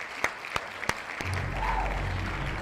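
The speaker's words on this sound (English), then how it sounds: "Everybody clap that up." An audience claps together, starting with a few sharp, separate claps and then swelling into steady, dense applause at moderate distance.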